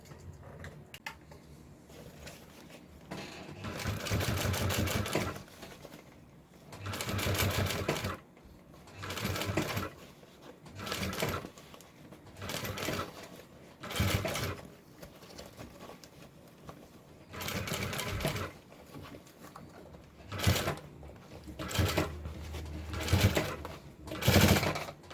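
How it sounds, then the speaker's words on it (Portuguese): Sewing machine stitching a fabric lunch bag shaped like a Kombi van, running in repeated bursts of rapid whirring and needle chatter, separated by short pauses and soft handling noises, close by. "e começo a fazer a costura"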